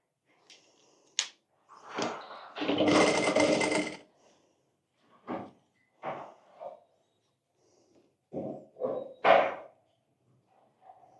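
A sewing machine stitches cotton fabric for a newborn's dhoti in short separate bursts, with one longer run of about a second and a half, broken by quiet pauses and handling noises.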